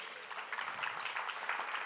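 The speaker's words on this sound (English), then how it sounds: "Let's give him a round of applause, everybody." A church congregation applauds a member's birthday, a dense, steady patter of many hands clapping at once that continues evenly throughout without any talk.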